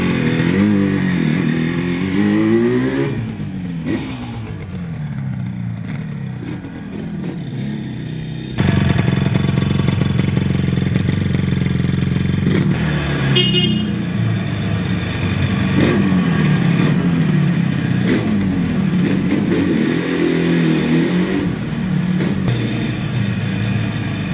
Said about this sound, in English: The motor sounds extremely tight.